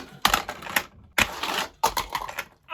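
A Hot Wheels Monster Trucks Bigfoot Loop and Flip playset launcher is slammed three times, each a loud, close plastic smack followed by rattling clatter as the trucks fire off.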